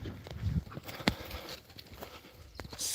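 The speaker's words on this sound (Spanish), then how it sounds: "Vamos a ver el caballo, me lo han atado aquí" A horse tied up beside a dirt path through an olive grove shifts its hooves, producing irregular clip-clop knocks and scuffs at close range, with a few sharp clacks among softer shuffling.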